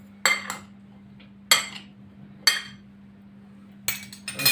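A spoon scraping and clinking against a bowl while red bean salad with olives and green onion is mixed, four separate bursts of close clatter with quiet pauses between them over a faint steady hum.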